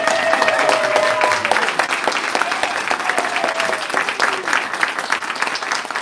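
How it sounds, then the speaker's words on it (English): A bookstore audience gives a quick round of applause for author Nancy Arny Pi-Sunyer, a loud, dense clatter of many hands that continues steadily from start to finish. "I think we should just have a quick round of applause for Nancy."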